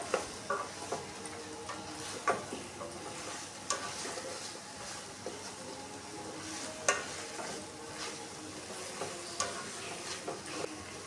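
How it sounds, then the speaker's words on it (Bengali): Ridge gourd frying in a pan for a vegetable dish gives a steady low sizzle, with a spoon scraping and stirring in repeated soft strokes throughout; no one speaks. "ঝিঙে এমনিতেই নরম হয় ওটা এমনিতেই তাড়াতাড়ি ভাজা হয়ে যাবে"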